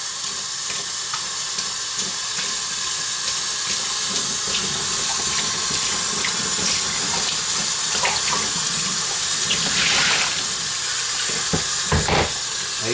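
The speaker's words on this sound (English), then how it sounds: "We'll use kind of lukewarm water. Doesn't have to be cold or hot, doesn't matter. I like it about lukewarm. And then with the water running," Lukewarm water runs from a sink tap during metal finishing work, a loud continuous splashing rush with a few clicks and knocks near the end and no talking.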